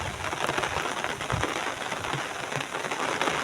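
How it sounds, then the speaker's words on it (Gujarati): Heavy rain pours down over a village in a steady, dense hiss with scattered louder drops and patters, continuous throughout and fairly close. "વરસાદ જોરદાર પડ્યો"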